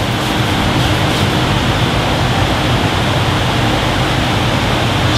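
A loud, steady hiss of car wash spray, wax and grease remover, coats a car's paintwork in an unbroken rush of sprayed liquid.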